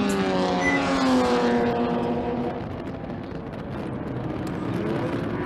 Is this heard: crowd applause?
no